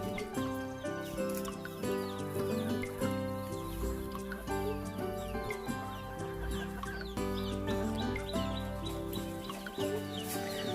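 Fighting roosters and chickens cluck steadily in a busy, overlapping chorus over a dense background, close by and continuous throughout.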